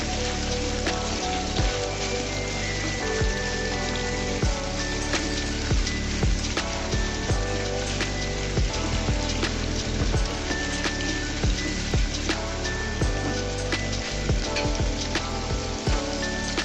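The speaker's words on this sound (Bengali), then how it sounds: "দিয়ে পেঁয়াজগুলোকে হালকা করে ভেজে নিব" Onions fry lightly in a pan for an egg and eggplant dish, giving a dense, steady sizzle that runs unbroken for the whole stretch with no voices.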